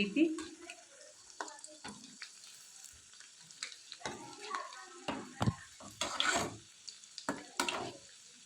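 Poha vadas frying in oil over a low flame give a soft crackling sizzle, broken by scraping and clinks as they are slowly turned over with a spoon in the pan.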